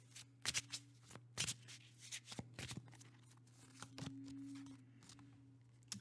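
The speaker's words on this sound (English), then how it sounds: "I'm just going to draw three astro chakra cards." A deck of astro chakra oracle cards is shuffled and drawn up close: several sharp riffling bursts and soft slides of cards, with no voices.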